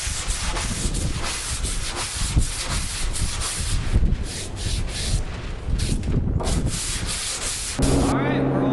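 Sanding block with 150-grit paper rubs over guide coat on primed car bodywork, a close, continuous rasping scrub in quick back-and-forth strokes, ending in a brief shift of handling noise.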